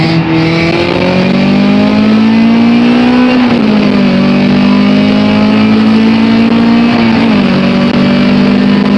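An H22-swapped Honda Civic accelerates hard on a test drive after an intake install, its engine droning loud and close, climbing steadily in pitch, with brief dips where gears change.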